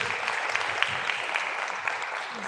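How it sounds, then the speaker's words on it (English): A brief burst of audience clapping at a university induction event, a dense steady patter of many hands at moderate level, with faint murmuring underneath. "Let's give a big round of applause to Krish."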